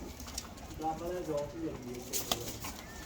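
Caged breeder pigeons coo in soft, low bursts nearby, with a light patter of movement and a person talking faintly in the background.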